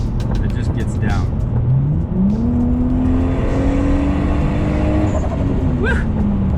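Lexus GS300 sleeper with a 2JZ-GTE engine accelerating hard, a loud close engine note climbing steadily through the revs with a brief shift, while people talk and cheer over it.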